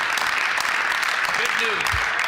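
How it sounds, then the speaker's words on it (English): Applause fills a legislative chamber during a Manitoba provincial house session, a steady dense clatter of many hands throughout, with a brief voice sounding faintly beneath it. "Everybody should be clapping."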